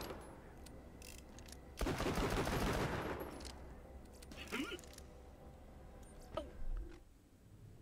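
Gunfire from weapons in Borderlands: The Pre-Sequel, a loud burst of rapid shots lasting about a second, then a few scattered quieter shots, over steady game background noise.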